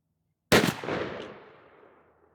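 A single loud shot from a Remington 870 12 gauge shotgun with a 26-inch barrel firing a Winchester Longbeard XR 3-inch #6 shell, a sharp blast followed by a long decaying outdoor echo.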